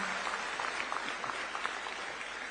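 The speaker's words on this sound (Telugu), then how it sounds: "చప్పట్లు కొట్టి అభినందించండి" Audience applause at a gathering in Singapore: a steady, faint wash of many hands clapping together, heard from a distance without any talk over it.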